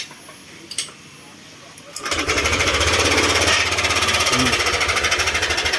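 After a couple of clicks, an engine starts and runs with a loud, fast metallic rattling clatter from a worn tensioner that continues steadily throughout.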